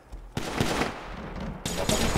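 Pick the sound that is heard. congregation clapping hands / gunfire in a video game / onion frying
gunfire in a video game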